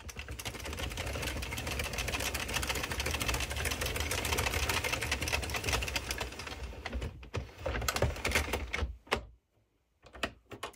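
A knitting machine carriage sliding back and forth across rows, heard as a steady mechanical clattering rattle that runs for several seconds before breaking into a few separate clacks and a short silence.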